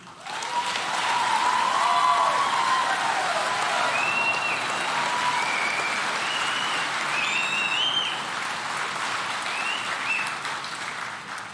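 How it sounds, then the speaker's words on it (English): Sustained applause from a large crowd at a youth challenge academy commencement ceremony, steady and full for about eleven seconds, with a few faint whistles or cheers riding on top. "Let's give them a round of applause."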